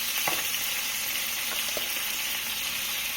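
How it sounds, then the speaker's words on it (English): Food sautéing in oil in a pan for a New Orleans Manale-style dinner: a continuous bright sizzle with a few soft knocks, close and steady, no voices. "just kind of like saute them up like this."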